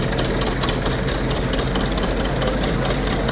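An old tractor engine runs at a show parade in Wolford, North Dakota, giving a loud, steady, rumbling idle with constant low chugging throughout.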